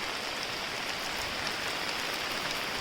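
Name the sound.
heavy rain falling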